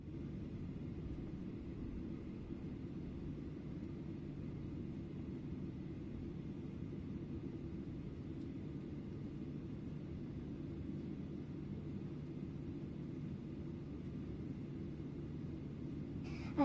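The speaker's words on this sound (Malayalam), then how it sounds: "അങ്ങനെ ഫ്ലൈറ്റ് ലാൻഡായി." A passenger airplane just after landing, heard as a steady low engine rumble and broadband cabin roar, constant and moderately quiet throughout, with no talking.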